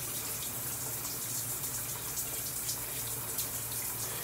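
A shower head runs a steady, loud stream of water that rinses a razor blade during a head shave, with a constant spray and no pauses.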